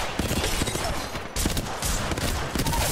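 Rapid, continuous bursts of video game gunfire from a shooter match with care package weapons, loud and close throughout with a brief lull mid-way before the firing resumes.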